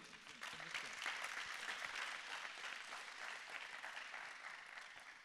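An audience applauds an award winner at an innovation trophy ceremony, with continuous, even clapping from a sizable crowd that carries through the whole stretch without a break.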